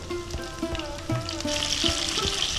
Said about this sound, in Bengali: আমি ফুলকপিগুলো ছেড়ে দিচ্ছি ভাজার জন্য।